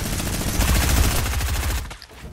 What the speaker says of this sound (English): Use your sniper to breach through his wall.